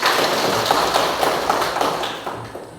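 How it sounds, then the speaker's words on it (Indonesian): A classroom of students claps together in a dense, fairly loud burst of applause that rolls on steadily before tapering off near the end. "Tepuk tangan sekali lagi"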